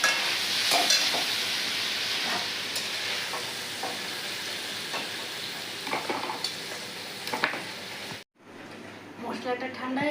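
Chicken pieces frying in butter and oil with salt give a loud, steady sizzle close up, with stirring scrapes and clinks, a brief cut near the end, and a voice talking over it.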